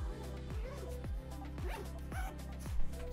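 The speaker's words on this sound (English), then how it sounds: "you can leave the zipper open as well as the zipper for the divider open" A travel backpack's divider zipper is pulled open in several quick rasping strokes, up close, over a steady low hum, with faint talk in the background.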